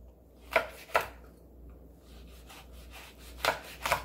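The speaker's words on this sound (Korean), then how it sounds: "홍고추 4개 썰어주세요." A few crisp knife cuts through red chili peppers tap against a cutting board, two close together, a pause, then two more, quiet and near.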